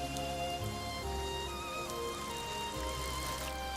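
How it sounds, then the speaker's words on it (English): Rain falls in a forest, a soft, continuous patter of drops blended under sustained musical tones, with no speech. "Rain?"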